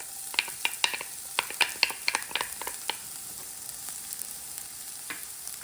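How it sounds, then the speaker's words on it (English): Shallots fry in a pan for a salmon Wellington filling, giving a steady sizzle with a cluster of sharp crackles and pops that thins out toward the end. "let's add our shallots."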